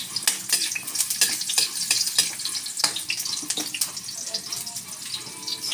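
Onions sautéing in a pan, with a steady crackling sizzle and repeated stirring scrapes close by; a voice is briefly heard in the background.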